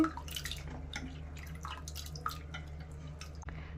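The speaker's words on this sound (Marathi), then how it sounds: "डाळ आपल्याला 2 ते 3 पाण्याने धुवून घ्यायची आहे" Quiet splashing and dripping water as lentils are swished and rinsed, with soft irregular drips and sloshes over a low hum.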